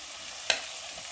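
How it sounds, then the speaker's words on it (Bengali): Ginger, garlic and green chilli paste frying in oil for a jackfruit and prawn dish, a steady sizzle with one sharp click of a spatula against the pan. "ভেজে নেব যাতে আদা রসুনের কাঁচা গন্ধটা বেরিয়ে যায়"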